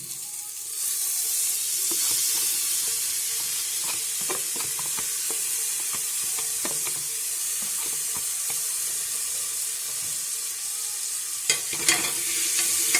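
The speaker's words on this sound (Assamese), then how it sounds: "এতিয়া গোটেইখিনি আমি একেলগে মিক্স কৰি লৰাই দিম।" Pork with ginger garlic paste is stirred in a hot pan for an Assamese boiled pork dish, giving a steady close sizzle with scattered scraping clicks of the spoon, a few louder scrapes near the end, and no voices.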